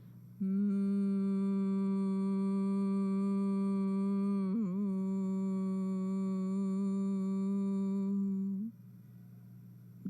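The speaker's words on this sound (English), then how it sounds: "breathe out with a humming sound" A steady humming exhalation during yogic breathing with the ears closed, a single sustained tonal hum lasting about eight seconds at moderate level, with a slight wobble midway.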